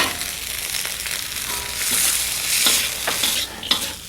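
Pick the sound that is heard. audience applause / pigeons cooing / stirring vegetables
stirring vegetables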